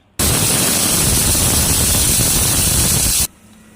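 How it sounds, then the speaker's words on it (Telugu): A pressure cooker cooking coconut biryani gives a loud, steady whistle of escaping steam that sounds alone for about three seconds and then cuts off sharply. "మొత్తం మూడు విజిల్లు వచ్చినాయి"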